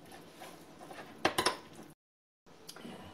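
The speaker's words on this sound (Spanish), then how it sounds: "Y ahora lo vamos a mezclar con la mayonesa y lo vamos a mezclar todo." Tuna, egg yolks, chopped olives and mayonnaise are stirred together in a bowl, with a quick cluster of utensil clinks and scrapes against the dish, soft and close, followed by a brief silence and a final light tap.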